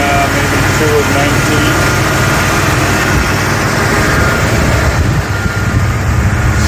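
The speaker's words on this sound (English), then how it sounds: "Engine runs really smooth, sounds good." Muscle car engine with manual brakes and a newer battery idling smoothly and steadily throughout, a continuous low rumble close by with broadband noise over it.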